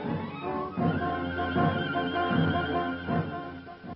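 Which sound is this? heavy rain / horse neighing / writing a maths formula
horse neighing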